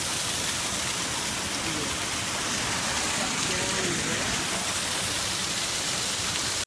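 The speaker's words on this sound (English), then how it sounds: "You've got this gorgeous layered waterfall here that begins" A layered waterfall pours in a steady, full rush of broadband water noise that stays constant and close throughout, with no voices over it.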